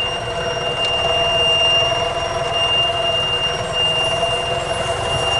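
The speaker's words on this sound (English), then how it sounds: "Boy, that alarm is annoying." A steady, piercing electronic tone drones continuously from a 1995 EZGO Workhorse golf cart's alarm, with low mechanical rumble underneath and no pauses throughout.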